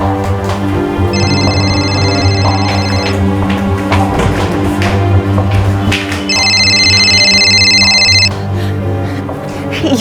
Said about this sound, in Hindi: माँ, ये फोन किसका बज रहा है? शायद बाथरूम से आवाज आ रही है,